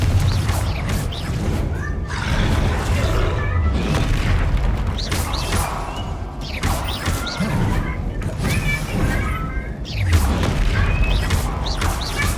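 Repeated loud booming blasts from the Confringo spell in Hogwarts Legacy, several heavy explosions spaced a few seconds apart with crackling debris between them.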